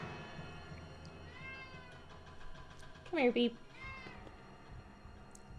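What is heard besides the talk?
cat meowing in Nancy Drew video game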